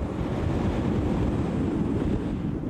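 Strong wind buffeting the microphone at the highest point of a mountain route in Jotunheimen National Park, a loud, steady roaring rush with no break.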